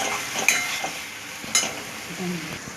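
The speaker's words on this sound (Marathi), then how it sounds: "त्याला आपण चांगलं तेलामध्ये जरा मिक्स करून घेऊया परतून घेऊया व्यवस्थित" Thick paste sizzling and being stirred in hot oil, with a couple of sharp spoon scrapes against the pan; no talking.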